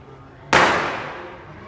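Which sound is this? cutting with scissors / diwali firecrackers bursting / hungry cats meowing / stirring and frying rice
diwali firecrackers bursting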